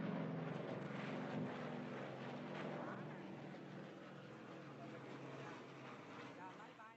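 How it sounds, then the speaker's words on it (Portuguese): Airplanes flying overhead during the Vietnam War, a broad continuous engine roar that slowly fades, with voices talking faintly beneath. "Os aviões de novo. São americanos ou vietnamitas?"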